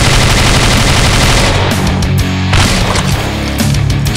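Rapid gunfire in the 2D video game Slendytubbies: 2D Revolution, loud dense bursts of automatic shots rattling continuously, with a brief thinning in the middle before the firing resumes.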